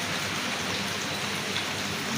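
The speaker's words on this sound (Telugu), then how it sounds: "ఎండ వాన రెండు ఒకేసారి వస్తున్నాయి" Early-morning rain falls while the sun shines in Bhimavaram, a steady, even hiss of drops on surfaces, close and continuous with no talk.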